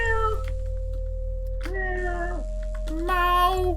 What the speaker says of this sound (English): Meow, meow. That's all I hear.